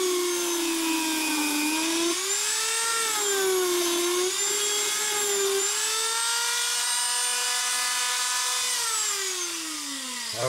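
A Dremel flex shaft rotary tool with a Kutzall burr carves wood, giving a continuous high whine whose pitch sags and recovers as the burr bites, close and loud throughout with no talking.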